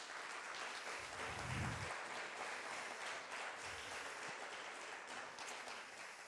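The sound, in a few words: conference audience applause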